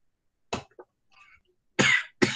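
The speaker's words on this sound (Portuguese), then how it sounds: "hoje estou tossindo pra caramba, desculpa" A person coughs a few times in short, sharp bursts, with a brief gap of quiet between the first cough and two louder ones near the end.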